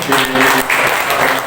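Sustained audience applause at a college felicitation gathering for alumni, honouring the institution's chairman; dense, steady clapping continues at full volume for the whole stretch, with a faint voice mixed in underneath.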